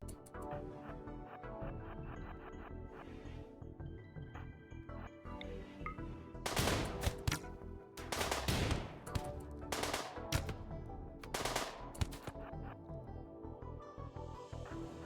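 Gunfire volleys crack out in bursts during a RimWorld island battle, layered over a constant droning game soundtrack, with clusters of sharp shots rising and falling through the middle.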